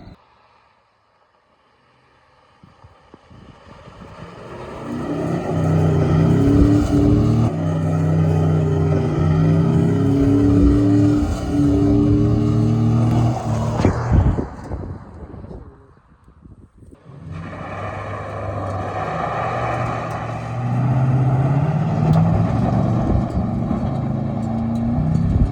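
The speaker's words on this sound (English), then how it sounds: "we got this thing hooked up to the truck and we're ready to do some drifting" A pickup truck with a hitch-mounted cargo carrier being drifted, its engine roaring loudly with rising and falling revs, a brief drop near the middle, then surging again.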